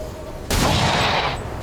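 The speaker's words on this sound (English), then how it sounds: "maybe it'll be a critical hit with a pistol" A pistol shot fires in the XCOM 2 video game, a single loud sudden burst that sustains a broad noisy blast for about a second before cutting off.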